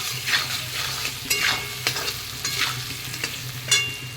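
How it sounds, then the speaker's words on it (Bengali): Potatoes fry in a pan with salt and turmeric, a constant sizzle punctuated by several sharp spatula scrapes and stirring strokes, close and clear with no speech. "দিয়ে দেবো স্বাদ মতো লবণ আর পরিমাণ মতো হলুদ দিয়ে আবার একটু নাড়িয়ে নেব ভালো করে"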